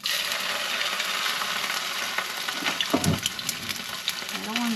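Rainbow trout and grayling fillets fry in two pans of hot oil, giving a steady close sizzle throughout with a brief clatter and bubbling burst near the middle.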